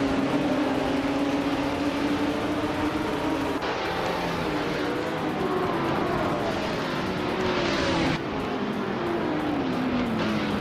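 Racing cars in a video game race roar continuously, engines rising and dropping in pitch through gear changes as several cars pass and jostle, loud and close throughout with no talking.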